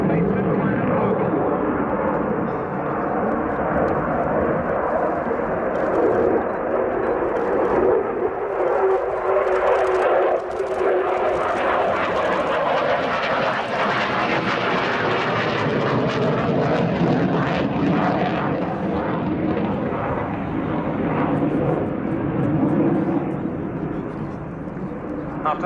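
A Belgian Air Component General Dynamics F-16AM Fighting Falcon flying a display, a loud continuous jet roar that swells and fades as it passes, with a commentator speaking over it.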